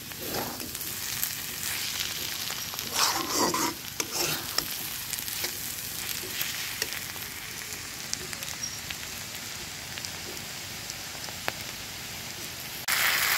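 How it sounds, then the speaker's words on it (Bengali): Green banana is stir-fried in a pan, making a continuous close sizzle and crackle with occasional stirring scrapes and a steady frying hiss. "দেখো সবাই ভাজি করার পরে আমি এখানে কলা ভুনা করতেছি, শুধু কলা রান্না করে"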